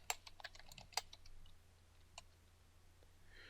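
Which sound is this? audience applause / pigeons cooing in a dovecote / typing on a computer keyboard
typing on a computer keyboard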